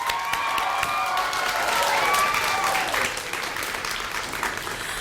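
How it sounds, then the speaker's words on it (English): An audience at a Founder's Day convocation bursts into sustained applause, many hands clapping together with some cheering, a dense even roar that eases slightly toward the end. "Can we give them a round of applause?"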